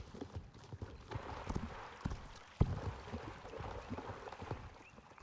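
Horse hooves from a video game, repeated clip-clop steps in an uneven walking rhythm, fairly close and moderately loud over soft outdoor ambience.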